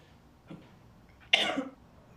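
A faint throat sound, then a single sharp, close cough that trails off briefly, with quiet room tone around it.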